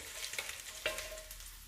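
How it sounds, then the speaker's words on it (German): Eggs frying in a pan for a keto dish, a steady broadband sizzle with a few light stirring or scraping clicks and one sharper tap near the middle, close and continuous with no voices. "Noch ein bisschen anbraten hier so."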